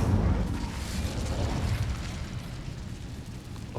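An Incendio fire spell cast in the Hogwarts Legacy video game, a loud roaring burst of flame that rumbles heavily at first and then thins to a softer rushing hiss over a few seconds.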